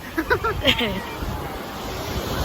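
Ocean surf at Vistanda Beach, a steady broad wash of waves with wind buffeting the microphone, and voices speaking briefly at the start.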